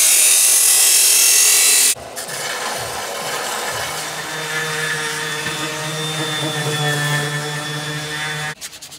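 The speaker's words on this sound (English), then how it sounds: "You can do it in about 5 minutes of sanding" Steady abrasive rubbing of sandpaper on hardened Bondo body filler, continuous and close, after a brief burst of hissy noise at the start.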